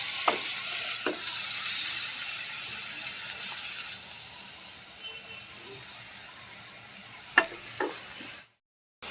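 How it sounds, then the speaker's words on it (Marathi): Spices sizzle and fry in hot oil in a pan for a pea, cauliflower and cashew curry, a steady bright hiss with occasional scraping stirs, before cutting to silence at the end. "हे बघा मसाले फ्राय झाले"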